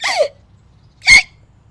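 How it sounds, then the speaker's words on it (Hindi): Two loud, sharp hiccups from a young woman, a short gasping one at the start and a stronger one about a second later, each standing alone in silence. "बहू बोलने ही जाती है कि जोर से हिचकी आ जाती है।"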